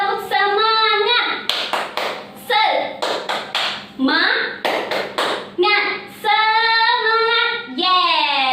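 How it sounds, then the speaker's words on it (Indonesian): A group led by a facilitator performs the tepuk semangat chant, rhythmic bursts of sharp clapping interleaved with loud sung and chanted voices, lively and close in a room. "saya mau kita tepuk semangat"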